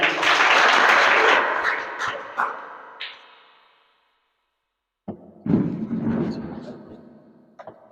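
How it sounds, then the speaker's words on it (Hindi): Loud audience applause for a contestant on a live quiz game, a strong burst of clapping that fades to silence, then another short round of claps and noise. "रागिनी कुमारी के लिए सभी कोई जोरदार ताली"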